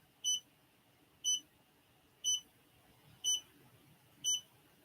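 An embroidery machine gives five short, high electronic beeps at an even one-second pace over a quiet background hum.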